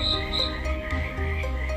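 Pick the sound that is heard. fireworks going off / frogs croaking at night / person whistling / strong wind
frogs croaking at night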